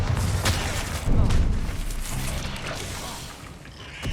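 In Hogwarts Legacy, the Bombarda spell goes off as a dense, rumbling blast with crackling debris and mechanical clatter, swelling around the middle and then settling into a lingering roar.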